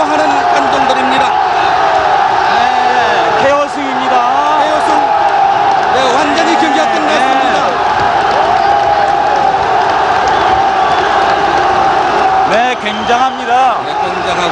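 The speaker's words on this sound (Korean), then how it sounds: "열광하는 관중들입니다" A large boxing-arena crowd of around three thousand cheers and roars loudly and without a break after a right-hand knockdown in a WBC light flyweight bout, while commentators talk excitedly over it.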